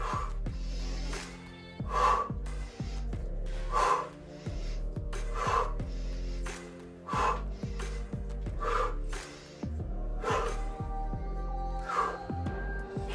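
Forceful exhales pushed out through the mouth during a strengthening yoga session come in a steady series of sharp, breathy bursts roughly every one and a half seconds, close and distinct over faint background music.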